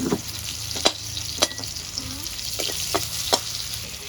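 Onions hit hot leftover fish-frying oil with a bay leaf in a pan, giving a steady close sizzle with a few sharp crackles and stirring clatters, no talk.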